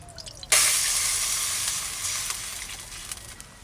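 Oil sizzles in a kadai (wok) as a Bengali katla fish curry gets underway, bursting into a loud, steady hiss after a quiet start and slowly tapering, close and alone with no talk.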